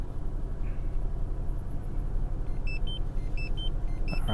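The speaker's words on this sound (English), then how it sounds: "And then the device is gonna beep." A satellite messenger device sitting on a car dashboard gives a short series of high, clean electronic beeps in the second half, heard over the steady low rumble of the car's interior.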